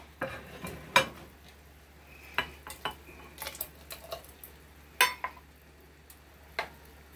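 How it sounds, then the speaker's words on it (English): Glass pint jars clink and knock on a hard surface as they are filled in a home kitchen with a wood stove, sparse bright taps and clatters spaced irregularly over a low steady hum. "I'm just going to put them in these little pint jars"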